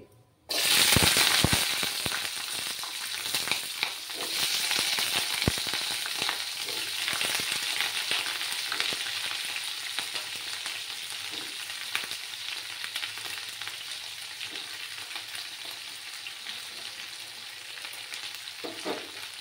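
Vegetables for a cauliflower stalk curry hit hot oil in a pan with a steady crackling sizzle. Stirring scrapes and pops continue close by for the full stretch, with no talk.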